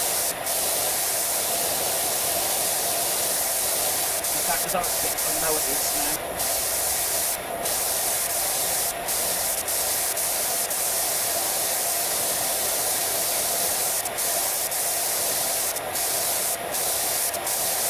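Steady water gun spray from a pressure washer in PowerWash Simulator 2, a continuous broadband hiss running the whole time with brief cut-outs, while a person talks quietly over it.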